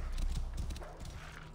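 Horse hooves clop in The Curse of the Pharaohs video game, a quiet run of uneven hoof strikes on the ground, strongest at the start and fading slightly.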